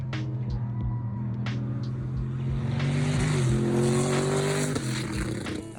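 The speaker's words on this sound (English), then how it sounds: "240Z with the giant V8, it sounds like so cool" A Datsun 240Z fitted with a big V8 engine roars up the Pikes Peak hill climb course, its deep, steady engine note loud and sustained, rising in pitch briefly with gear changes as it accelerates.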